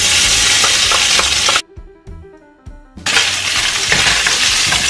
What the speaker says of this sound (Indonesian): Kasih tumis sebentar sampai agak kecoklatan